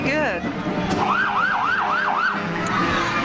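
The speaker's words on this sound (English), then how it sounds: "You hear that siren?" A police siren wails, rising and falling in quick repeated sweeps, fairly close and loud over traffic and background voices at a 2008 Christmas parade in Richmond.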